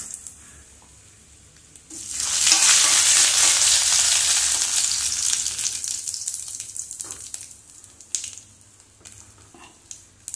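Urad dal, mustard seeds and dried red chilies dropped into hot oil for jackfruit erissery, a sudden loud sizzling burst that swells then slowly fades, with scattered crackles and stirring afterward.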